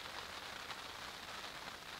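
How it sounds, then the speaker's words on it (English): Steady rain patters on the fabric of a hot tent during fall camping, a soft, even hiss of drops with no breaks, quiet and enveloping. "it is totally raining outside."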